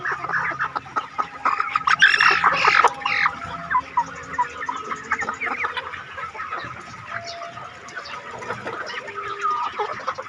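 Chickens on a small farm in Thailand's Isan region cluck and chatter near the microphone, several birds overlapping in uneven bursts, with a louder flurry early on and softer calls continuing to the end.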